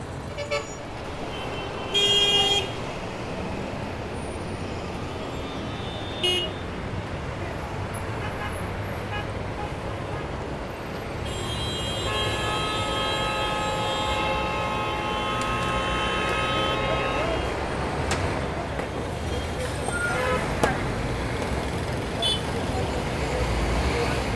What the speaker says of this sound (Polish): Takie korki na ulicach w Limie w godzinach porannych to normalna sprawa.